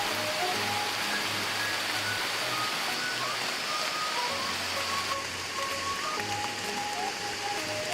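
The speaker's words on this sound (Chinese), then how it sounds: "直接下起了雨来" Steady rain hisses evenly throughout in the wilderness, a dense wash of falling water with faint tones and low hum underneath, no voices.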